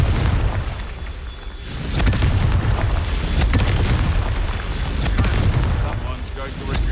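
In Hogwarts Legacy, a Confringo fire spell erupts in loud, rumbling booms that swell and roll for several seconds, with voices mixed in.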